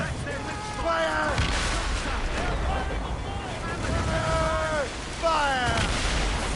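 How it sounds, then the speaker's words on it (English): Heavy ship cannons boom in a naval battle in Assassin's Creed Rogue, with loud broadband blasts amid rushing wind and water while crew voices shout over the gunfire throughout. "Cannon ready! Fire!"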